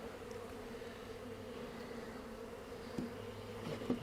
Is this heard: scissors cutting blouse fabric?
no